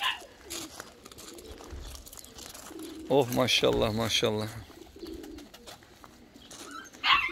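Van pigeons at a loft give a run of soft, repeated cooing calls in the middle, close by, with someone talking at moments around them.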